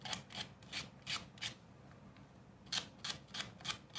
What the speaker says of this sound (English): I would still recommend you go over the edges and do the sanding once